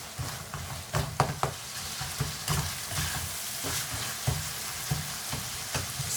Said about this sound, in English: Just break the keema with your spatula or spoon so it's nice and fine.